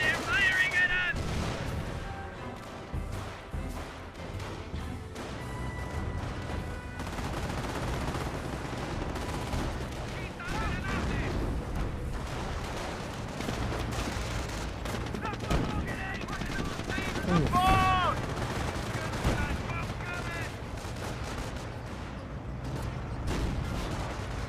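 Enemy squads firing in Company of Heroes 1, sustained rifle and machine-gun bursts crackling over a continuous battle din, with occasional sharper reports and a few tonal game effects.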